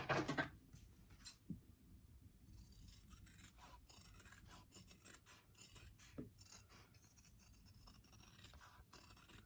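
Scissors trim the seam allowance of sewn fabric for a hip bag: a loud rasping cut at the start, then scattered soft snips and rubbing sounds at close range, with no talking.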